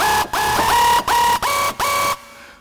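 Six short, bright synth stabs from the "Screw Me" preset of Lussive Audio's Hardstyle Screech Designer, a hardstyle screech sound with pitch bends and no automation. The notes play in a choppy rhythm, loud and alone, then cut to silence.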